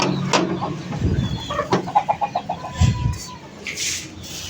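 Backyard hens that have wandered out of their coop cluck and squawk close by, a busy run of short, rhythmic clucks with a louder call near the end.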